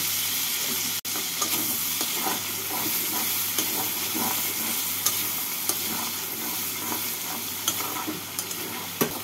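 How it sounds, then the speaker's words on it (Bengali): Fried potatoes cooking with spice paste and a splash of water in a pan, a continuous bright sizzle with the repeated scrape and knock of a spoon stirring, no voices. "এবার আলুর সাথে মশলাটাকে কষিয়ে নেব"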